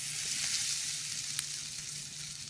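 Cornbread batter hitting hot bacon fat in a seasoned skillet, giving a soft but steady hiss of sizzling with a faint crackle, alone without talk.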